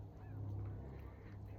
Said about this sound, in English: And hear the birds in the background